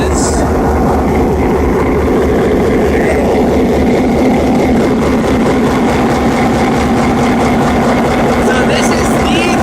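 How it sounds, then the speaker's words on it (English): A big diesel locomotive engine on a heritage passenger train, the generator powering the traction motors, runs with a loud, steady, throbbing low rumble at close range; voices are faint underneath. "Yeah, that's the big diesel engine."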